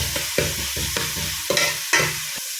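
Onion frying with salt in a pan until brown, close and loud, with a steady sizzle and about five rhythmic scraping stirs of a spoon.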